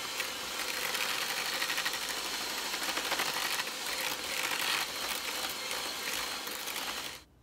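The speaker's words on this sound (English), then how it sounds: "use your hand mixer to make sure you mix up everything well" An electric hand mixer whirs steadily through cookie dough ingredients for chocolate cookies in a bowl, a dense buzzing mechanical drone that runs loud and continuous for about seven seconds before cutting off abruptly.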